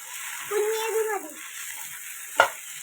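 A small dosa cooking on a hot pan gives a faint, steady sizzle, with a short tonal sound early on and a single sharp clink near the end.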